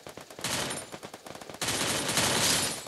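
Automatic weapon fire in the Free Fire battle royale game comes in rapid bursts of close, sharp shots, first choppy and staccato, then a sustained loud rattle.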